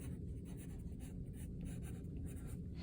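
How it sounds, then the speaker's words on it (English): Pen or marker writing by hand on paper while sketching cartoon mouths, a steady scratchy stroking that runs continuously at close range with no talking. "Let's write what we're doing"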